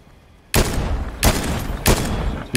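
Loud gunfire from the video game Fortnite, three heavy sustained bursts in quick succession that fill the whole clip with dense roaring reports.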